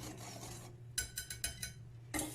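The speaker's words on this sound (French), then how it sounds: "vous trempez votre beurre, le bout de votre beurre dans la farine, et vous râpez votre beurre tout simplement" Butter being grated against a rasp into a bowl of salted flour for quick puff pastry, a few short scraping strokes close up, with rustling before and a final scrape.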